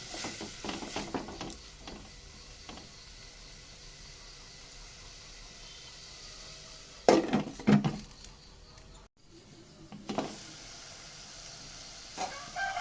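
Tomatoes and onions soften in a pan for a green peas curry, a low, steady sizzle broken by a few louder spatula scrapes and clatters against the pan, with no one talking.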